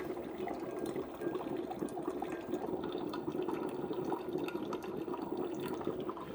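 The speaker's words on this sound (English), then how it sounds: "So the travel mug's filling up." A Ninja Coffee Bar CF082 coffee maker brews into a travel mug, with a soft, continuous trickle of coffee streaming into the mug, faint and steady with no talking.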